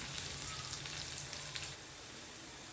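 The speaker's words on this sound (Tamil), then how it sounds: "இப்போது சேர்த்துட்டு இதையும் ஒரு நிமிஷத்துக்கு நல்லா வதக்குனிங்கன்னா இதுவும் நல்லா வதங்கிடும்." Onions and sliced garlic sauté in a pan for a Thanjavur kadappa, giving a steady, soft sizzle with a faint background hum that drops slightly in level near the end.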